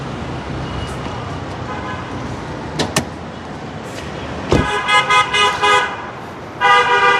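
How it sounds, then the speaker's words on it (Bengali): A Toyota Premio petrol car engine idles with a low steady hum, broken by a couple of sharp clicks and then several loud honking horn blasts nearby. "শুধু ইঞ্জিনের আওয়াজটা পাবেন"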